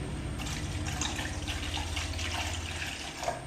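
Milk poured into a tea pot already holding water, a steady liquid pouring and splashing sound running continuously and close by, with no talking.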